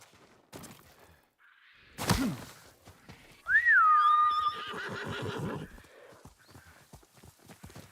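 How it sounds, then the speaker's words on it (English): Horse in a video game neighs loudly with a rising-falling whinny, followed by a snort, with faint hoof clatter and game sounds before and after; a voice is briefly heard. "Can this fucking horse stop running away from me?"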